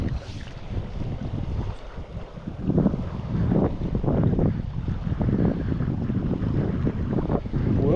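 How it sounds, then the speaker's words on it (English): Wind blows steadily beside a river during a fly fishing outing in stormy weather, a loud broadband rush with gusting swells that dominates the whole stretch with no voices over it. "Starting to get a little windy here"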